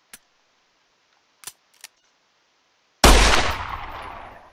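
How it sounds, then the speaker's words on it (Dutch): A police warning shot from a handgun cracks out once, sharp and loud, then rings and decays over about a second and a half, following a few faint clicks and taps. "Waarschuwing schot gelost, over."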